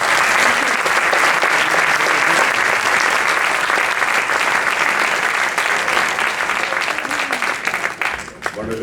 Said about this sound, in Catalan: Un aplaudiment per tothom.